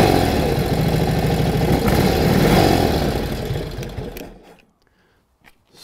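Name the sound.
vehicle engine being revved with throttle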